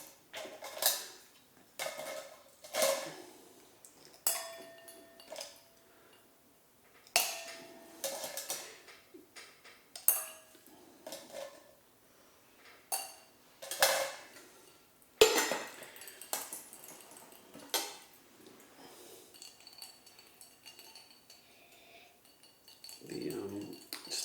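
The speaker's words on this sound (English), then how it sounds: "Shall we try with a cube or two of ice?" Ice cubes clinking and rattling against a glass of Amberches botanical gin, several sharp close clinks in irregular bursts with soft handling noise and quiet pauses between.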